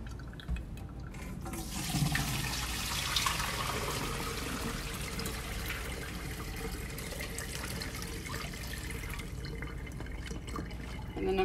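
Water runs steadily from a kitchen tap while collard greens are strained and rinsed in the sink, a continuous close splashing and trickling with small drips, no talking.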